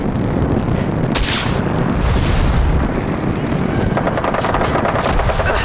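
Gunfire aimed at a Vertibird helicopter in the video game Fallout 4 VR: loud, rapid shots and booming impacts over a continuous rotor-like rumble, with a sharp burst around the second second.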